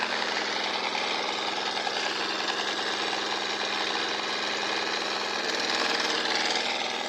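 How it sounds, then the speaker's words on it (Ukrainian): An air compressor runs steadily off a generator alongside a pump under load, giving a continuous loud mechanical drone with a fine rapid pulsing and no speech. "Компресор, як бачите, качає"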